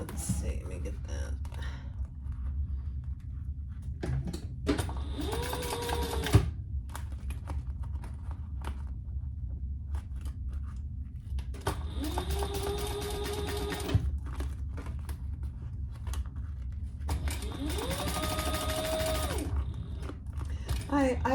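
A sewing machine top stitches waxed canvas for a small zippered pouch, running in three separate stretches of steady whirring stitching with quiet pauses between, soft and near.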